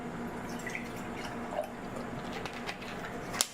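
Mountain spring water trickles and drips into a container, a faint, uneven splashing that continues steadily with a sharper drop at the end, no talking.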